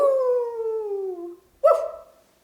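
A voice reading a children's picture book imitates a dog. It gives one long, falling howl-like call, then a short pause and a sharper woof that fades out. The sounds are fairly close and clear.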